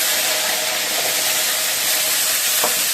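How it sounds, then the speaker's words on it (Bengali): Green chillies go into hot oil with black cumin already fried, giving a steady, close, bright sizzle and hiss that runs unbroken throughout, with a brief stir or scrape near the end. "কাঁচা লঙ্কাটা ছেড়ে দিলাম, ফুটপাট করে ফুটতে দিয়ে দিলাম"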